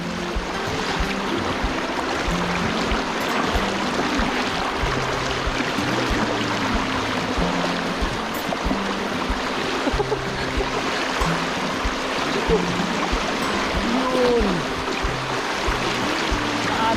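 Continuous loud rush of fast-flowing river water, steady throughout with a churning, splashing texture and no voices.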